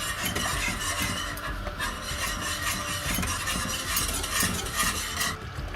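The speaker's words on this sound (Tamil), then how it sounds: "இப்போது வெல்லம் தண்ணி கொதிக்குது" Jaggery water boiling in a pan for a Thiruvadhirai festival sweet, a steady, close bubbling and sizzling hiss that runs evenly throughout with no talk.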